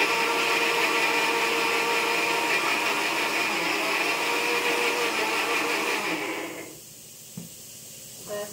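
A mixer grinder grinding ingredients finely for chole, a loud steady whirring motor whine that cuts off near the end, followed by a brief clunk and quiet.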